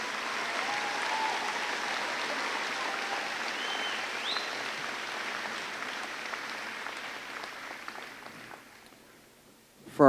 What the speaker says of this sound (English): one more round of applause for numbers 10 through